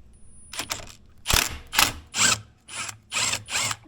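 An 8mm ratchet works on the steering wheel bolts of a 1997-2006 Jeep Wrangler TJ, giving six short bursts of rapid clicking, close and fairly quiet, with brief pauses between strokes.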